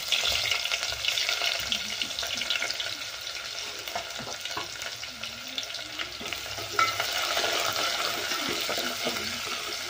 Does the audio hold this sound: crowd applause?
no